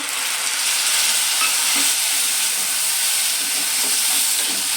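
Fried raw banana sautéed with a paste of ginger, mustard, green chili and garlic, a loud steady sizzle and hiss with scraping stirring sounds, close by and without talk.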